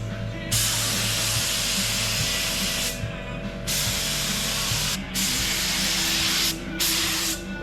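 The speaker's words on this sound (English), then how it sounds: "So we proceeded to paint everything yellow." A spray gun paints a truck tub yellow in loud, close hissing bursts lasting a few seconds each, separated by short pauses, over a steady background hum.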